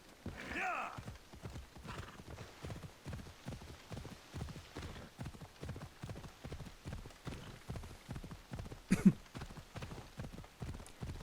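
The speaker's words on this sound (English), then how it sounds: "just jogging around on your horse" Horse hooves clop at a steady, rhythmic trot while riding in Assassin's Creed Odyssey, faint and even throughout, with an occasional neigh and soft ambient game sounds.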